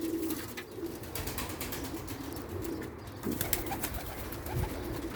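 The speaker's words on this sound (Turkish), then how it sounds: "Çok güzel kuşlarımız var." Nuremberg pigeons coo softly in a low, repeated rhythm, with occasional wing flaps and rustling nearby amid steady background noise.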